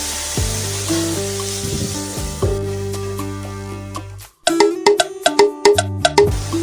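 A tomato mixture frying in a pan gives off a steady close sizzle and bubbling, then a run of stirring scrapes and clanks against the pan.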